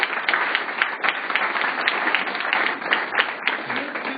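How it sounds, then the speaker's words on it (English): Audience applause at a community gathering in Boulder, a dense, steady crowd clapping that carries loudly and evenly throughout without pause. "So let's give these folks a round of applause."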